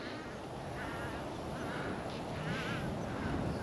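Birds call near a lake along the Panther Point Trail in Central Florida, with duck-like quacks and honks rising now and then over a steady outdoor hiss of insects and breeze.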